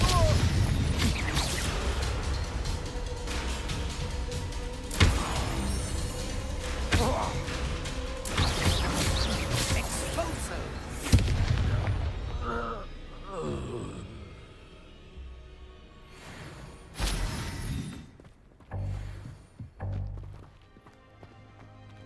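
Hogwarts Legacy spell combat with repeated Confringo fire blasts: sharp, loud explosive bursts strike at intervals amid clattering impacts and scuffling, then thin out toward the end into scattered crashes.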